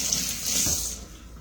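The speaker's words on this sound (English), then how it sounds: "I'm going to rinse my hands." Running tap water splashing steadily as hands are rinsed under a kitchen faucet, a close, continuous hiss with slight variation.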